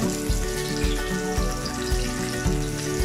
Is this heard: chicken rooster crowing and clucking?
no